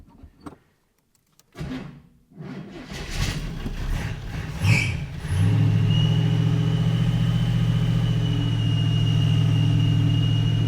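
The engine of a 1937 Buick street rod with a new crate motor starts after a few scattered clunks, then holds a steady, close idle while the alternator adds a thin, continuous whistle above the rumble.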